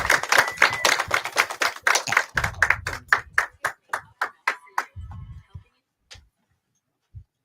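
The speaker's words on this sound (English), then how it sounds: "Give a round of applause." A small audience at a meditation talk gives a round of applause, sparse clapping that thins into a few distinct, rhythmic claps before trailing off into near silence.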